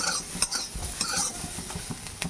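Onion and capsicum stirred together as they fry in a pan, with a close, crackling sizzle and several quick spoon scrapes and knocks against the metal, no voices present.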